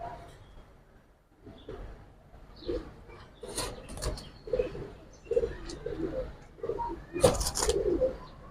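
Giribaz pigeons coo repeatedly close by in soft, low, throaty bursts, with a few light rustles and thumps between the calls.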